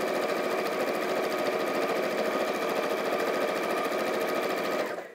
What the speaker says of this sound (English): Drop your presser foot and then we're sewing to that fourth purple dot.